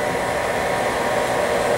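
A Nobles SD2338 three-phase spin dryer for metal finishing, with a 740 RPM basket, runs smoothly and quietly, giving off a steady, even whirring hiss with no change in pitch and no talking.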